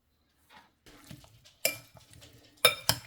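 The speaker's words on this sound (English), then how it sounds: "So chop up the basil." Fresh garden basil being chopped in a kitchen, a few soft scattered knife taps on a board building to two sharp louder clacks near the end, close and alone.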